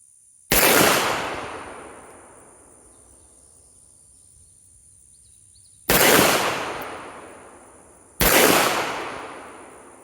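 Three sharp gunshots from a Girsan RC 9mm pistol fired at a 70-yard target outdoors, each a loud crack with a long decaying echo, spaced several seconds apart, while a steady high insect-like whine runs throughout.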